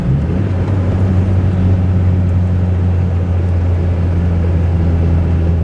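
Turbocharged 4G64 Mitsubishi Galant, street tuned, accelerating on a drive: a steady, fairly quiet engine drone with a low rumble and faint rising tone, heard from inside the car with no talking.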